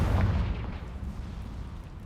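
A Confringo fire spell goes off in Hogwarts Legacy, a single deep blast that hits hard at the start and then rumbles and fades over a couple of seconds.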